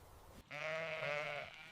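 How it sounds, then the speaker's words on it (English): A single domestic sheep lets out one sustained, wavering bleat, close by and clear, with nothing else around it. "Sheep, Ovis aries, do somewhat better."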